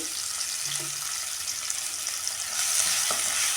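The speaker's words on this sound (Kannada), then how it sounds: "ಇವಾಗ ಇದನ್ನು ನಾವು ಸ್ವಲ್ಪ ಎಣ್ಣೆಗೆ ಫ್ರೈ ಮಾಡೋಣ" Green chillies and garlic frying in oil, a steady close crackling sizzle that grows a bit louder near the end, with faint utensil taps, no talking.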